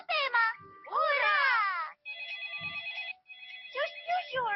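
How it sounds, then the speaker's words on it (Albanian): Cartoon telephone ringing in a Peppa Pig episode, a steady electronic ring sounding in short bursts between animated character voices. "Që është kjo zhurmë? Abaderit po i bie telefonin."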